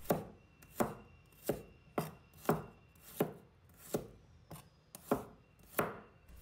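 A knife chops fresh garlic into small pieces on a cutting board, steady crisp thuds about every two-thirds of a second, close and clear, with no talking.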